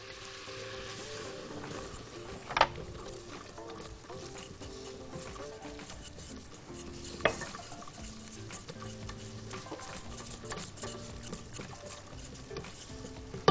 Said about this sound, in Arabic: ثلاث معالق من الدقيق بنقوم حاطينهم على الزبده